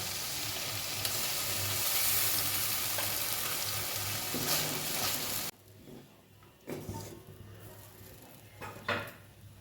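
Ground green pea paste hitting a hot kadai of fried spices, a loud continuous sizzle with stirring that drops off sharply midway, leaving quieter spatters and a few clinks of utensil against pan.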